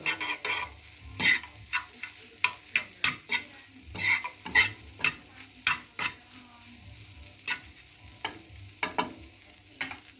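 Eggs being partially scrambled in an oiled pan for shrimp fried rice: a low sizzle under repeated scraping and stirring clicks of a utensil against the pan, irregular and close.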